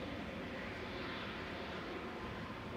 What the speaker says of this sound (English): we've got KLM taxiing out